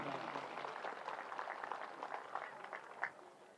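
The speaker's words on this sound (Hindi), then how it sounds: "जोरदार ताली बजाएं" Audience applause at a mass wedding ceremony for 21 brides, a soft, steady patter of many hands clapping at a distance for a few seconds, with a slight swell near the end.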